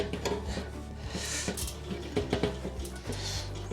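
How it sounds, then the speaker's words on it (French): A screwdriver working the first spring off the lid hinge of a Weber Master-Touch barbecue, giving close metallic scrapes, taps and small clinks in an irregular stream. "je vais venir passer mon tournevis dans le premier ressort"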